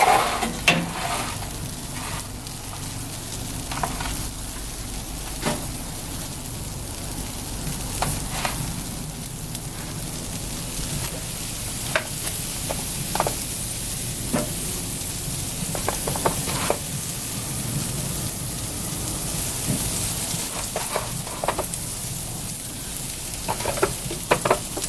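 Oxtails sizzle steadily on a smoker grill, a constant broadband hiss of frying fat with occasional sharp pops and crackles, close and continuous with no talking.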